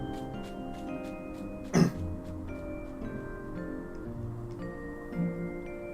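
One short, hoarse throat-clearing cough bursts out up close, then a softer throat sound follows a few seconds later, both set over steady game music in the background.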